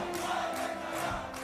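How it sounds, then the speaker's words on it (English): A crowd at an Israeli election-night rally chants for Benjamin Netanyahu, a continuous roar of many voices with rhythmic swells, heard from a distance and fairly quiet. "The crowds chant Bibi,"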